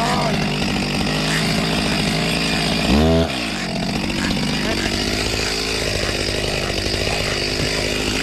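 Chainsaw cutting through wood outdoors in rough backcountry terrain, the engine droning loud and steady throughout with a brief pitch surge and pinched, bogging note about three seconds in as the bar binds in the cut.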